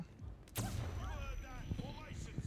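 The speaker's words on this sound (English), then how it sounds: "Flashbang again." A flashbang grenade in the stealth game Hitman 3 goes off as a single sharp bang early on, followed by a player talking over quieter game ambience.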